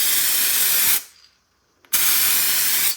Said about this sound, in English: So now I'm going to go ahead and test the spray paint on the test card.